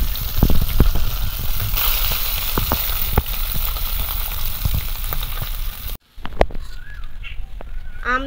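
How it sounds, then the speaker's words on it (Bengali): Small fish fry in hot oil in a wok while making a sour green mango curry, giving a steady sizzle with occasional sharp clinks and stirring knocks. A brief gap comes near the end. "আমি কড়াইতে আরো একটু তেল দিয়ে দেবো, যে বাকি মাছগুলো একইভাবে ভেজে নেব।"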